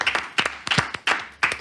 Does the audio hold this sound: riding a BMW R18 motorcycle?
no